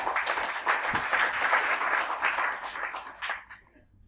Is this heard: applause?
yes